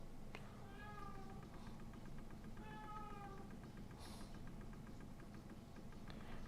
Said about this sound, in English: I gotta let a cat outside.